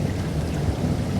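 Steady, dense rain pours as a loud, unbroken wash with a low rumble underneath, heard alone without voices, like a stormy night backdrop for a spoken ghost story.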